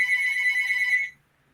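A telephone rings during an interview, a single bright electronic trill that cuts off after about a second, with no talk over it.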